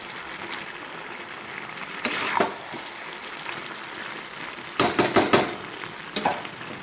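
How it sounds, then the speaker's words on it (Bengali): Vegetables for pressure-cooker khichuri are stirred in a pan, giving brief bursts of scraping and clatter at intervals over a soft, steady frying hiss, with no voices. "এখানে সবজিটাকে আমি সুন্দরভাবে নাড়িয়ে চালিয়ে নিচ্ছি"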